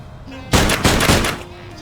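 Gunshots fired in the Sam & Max Beyond Time and Space video game: three loud, close bursts in quick succession after a quiet start, with a faint tonal hum underneath.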